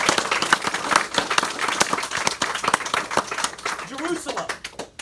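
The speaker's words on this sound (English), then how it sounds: "Give him a round of applause, man." Round of applause from an audience, scattered claps bursting out and thinning over a few seconds, with voices talking over the clapping.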